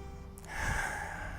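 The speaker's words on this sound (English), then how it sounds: "Taking a deep breath in" A single deep breath during a yoga session, with a soft inhale rising to a fuller, steady airy breath held through the end. Close and quiet, with no talking.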